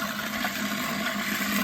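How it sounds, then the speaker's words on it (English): Water runs from a Kohler bathroom faucet on a Chesil vanity, a steady close hiss of flowing water with plenty of pressure, unbroken throughout and no voices. "Here's what the water looks like on. Plenty of pressure on this beautiful Kohler faucet."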